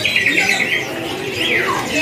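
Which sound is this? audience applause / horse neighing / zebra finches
zebra finches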